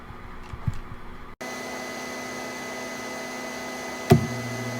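A 3D printer starts up with a sudden onset of steady mechanical whir and hum that continues evenly, with a brief clunk near the end; no talking.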